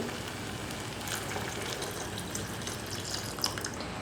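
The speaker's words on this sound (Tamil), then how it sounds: "கரைச்சி வச்சுருக்கிற வெல்லத்தை இப்போ நான் சேர்த்துக்கிறேன்" Dissolved jaggery syrup poured into aval payasam made with rice flakes, giving a steady soft liquid pour and gentle simmering hiss with faint stirring, no talk.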